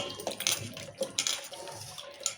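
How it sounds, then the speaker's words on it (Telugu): Tamarind is washed by hand in a bowl of water, giving close, uneven sloshing and splashing in short bursts with no talking. "ఇంకా నీళ్ళు పోసి ఇలా కడుక్కోవాలి రెండు సార్లు"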